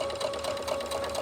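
A sewing machine stitches steadily through thick fabric, giving a loud, even mechanical whir with a fast regular pulse and no voices.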